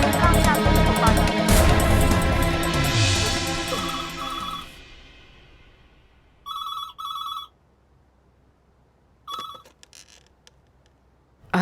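A telephone rings in short electronic bursts, first half-buried under loud music that fades out, then sounding alone in separate clear rings against a quiet background.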